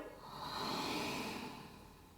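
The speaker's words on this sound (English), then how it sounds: "Deep, steady breathing." A single long, deep, steady breath during an advanced yoga backbend session, close and soft, rising and falling smoothly like a slow exhale, with no talking.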